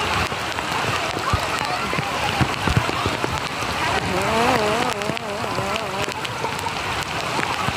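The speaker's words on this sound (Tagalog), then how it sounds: "It's raining!" Steady rain patters on a surface with a constant hiss, while a voice speaks over it partway through.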